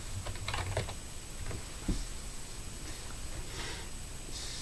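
Brief clusters of keystrokes on a computer keyboard, close and quiet, with a sniff or breath partway through and faint room noise.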